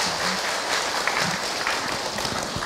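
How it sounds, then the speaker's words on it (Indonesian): Audience applause during an Indonesian Islamic religious lecture, a steady wash of clapping that carries at moderate level throughout without a break. "Tepuk tangan untuk beliau."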